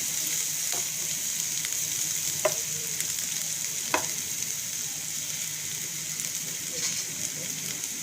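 Onions sautéing in a pan for a pasta dish, a steady close sizzle and hiss with a few sharp crackles and light stirring scrapes, no voices.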